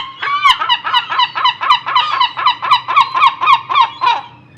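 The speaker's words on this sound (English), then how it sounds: "louder than the seagull because they're very loud" A loud, rapid series of harsh honking seagull calls close by, about a dozen in steady rhythm, with no talking.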